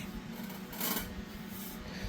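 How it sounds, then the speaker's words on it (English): Bondo filler on a lowrider bicycle part is hand-sanded with a soft, continuous raspy scrub that swells and fades in gentle strokes, fairly quiet and close, with no voices. "And I'm just going to keep sanding right in here."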